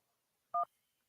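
A single short burst of telephone dialing tones connecting a caller on a radio call-in show, heard alone and clear against near silence.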